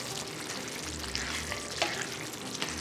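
Mashed potato is stirred in a pot, giving a continuous soft, wet scraping and squelching, with faint sizzle-like hiss and a few light knocks.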